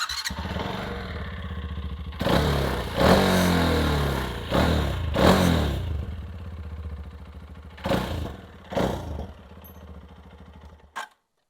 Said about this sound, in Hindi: अभी मैं इस मोटरसाइकिल को स्टार्ट करके आपको मैं इसका साउंड सुना देता हूँ।